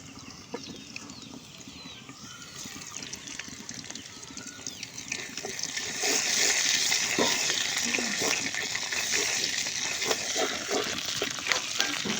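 Shing fish roe frying in hot oil with mango pickle, a steady close sizzle and crackle that grows louder partway through, with occasional stirring clicks.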